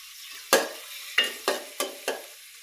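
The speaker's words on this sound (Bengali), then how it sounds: "দেখে দিকে এগুলো ভাজি হয়ে যাচ্ছে" Onions frying in oil in a pan for a red amaranth greens stir-fry, with five sharp sizzling bursts as they are stirred, each crackle flaring close and loud and then fading quickly.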